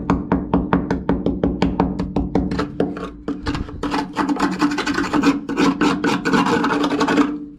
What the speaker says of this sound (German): Aber Schraubenzieher-Test.